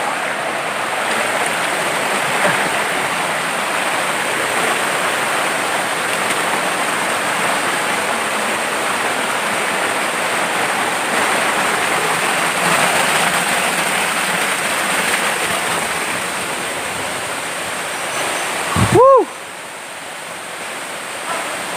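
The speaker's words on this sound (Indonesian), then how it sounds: "kita telah sampai di air terjun Elang" Elang waterfall on the Mount Prau hiking trail pours in a loud, steady broadband rush that continues unbroken for about twenty seconds, ending with a brief sharp noise.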